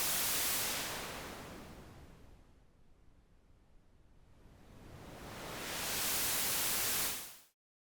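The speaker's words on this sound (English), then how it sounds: "this is the whitest white noise" White noise from a synthesizer in Ableton, a dense full hiss whose upper range fades away as the color knob turns down, then returns to full brightness before cutting off.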